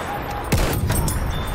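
Gunfire in Battlefield One: a sharp, loud shot with a booming low-end drop, followed by a dense burst of rapid shots and echoing tail, close and without talk.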